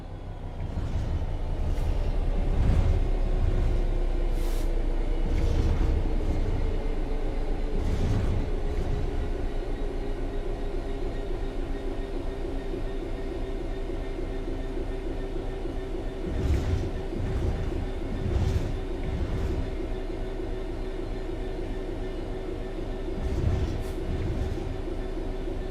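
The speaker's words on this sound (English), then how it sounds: "The train will then coast on level ground, and the train will only slow down very gradually." Passenger train coasting on level track in the simulator game Train Sim World 3, a steady rolling rumble with low engine drone and occasional clicks of wheels over rail joints, continuous and fairly close throughout.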